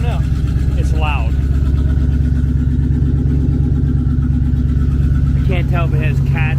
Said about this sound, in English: It still sounds like it has an exhaust leak.